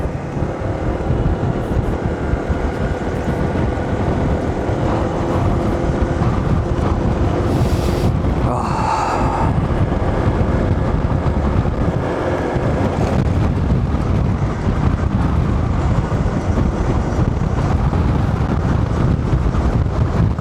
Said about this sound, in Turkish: Rüzgar sesinden de muhtemelen anlıyorsunuzdur. Rüzgar esiyor.